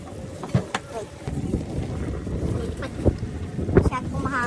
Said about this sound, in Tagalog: Masyado po mahangin.